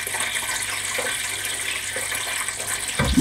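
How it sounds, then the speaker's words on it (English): Tap water runs steadily into a pot being filled with extra water for dyeing fabric, a close, even rushing splash that keeps going throughout and ends in a brief clatter; no one talks. "So I'm just filling up this pot so that there's with extra water"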